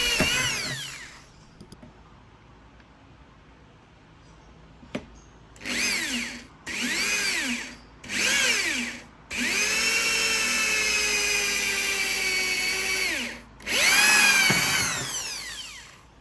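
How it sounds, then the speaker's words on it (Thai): A power drill bores about four holes in an amplifier chassis for mounting a speaker protection board. Several short whirring bursts rise and fall in pitch, then one long sustained run and a final burst, close and loud with quiet gaps between. "ส่วนบอร์ดตัวป้องกันลำโพงก็จะเจาะประมาณ4รู"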